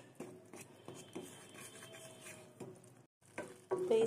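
A spoon scrapes and taps against a pan while chikoo halwa cooked with a spoonful of ghee is stirred, irregular close clinks and soft scraping with a short pause, no talk.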